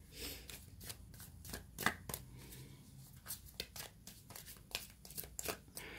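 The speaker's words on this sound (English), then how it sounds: "I have my ways of shuffling my cards." Tarot cards are shuffled by hand at close range, a steady run of crisp riffling bursts and soft slaps with no talking over them.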